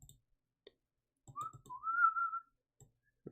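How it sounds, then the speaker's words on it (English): A person whistles close to a microphone, one short rising note and then a longer sustained tone with a slight upward slide, set between soft clicks and handling noises in a quiet room. "I actually don't know how whistling sounds on this mic."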